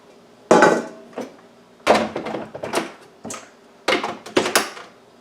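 A food chopper on its chop setting works through peaches, giving loud, irregular bursts of chopping clatter, several sharp hits in clusters with short pauses between them.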